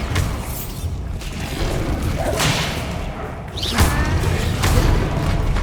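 Bombarda blasting spells going off in Hogwarts Legacy combat, several sharp whooshing cracks and thumping bursts spaced a second or so apart amid a busy battle din.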